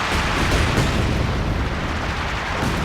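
A light artillery barrage in Company of Heroes 2 rumbles loud and continuous, with deep booms and blasts overlapping in a dense, sustained roar.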